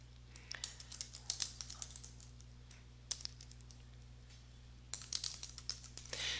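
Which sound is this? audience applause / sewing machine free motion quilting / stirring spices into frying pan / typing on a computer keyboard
typing on a computer keyboard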